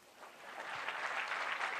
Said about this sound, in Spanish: Con eso quiero cerrar y agradecerles los aplausos.